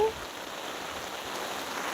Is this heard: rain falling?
yes